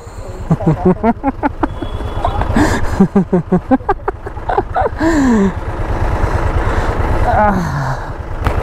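A Suzuki Hayabusa fitted with a Brocks Performance Penta Carbon exhaust idles with a steady low rumble beneath close, continuous talking that largely covers it.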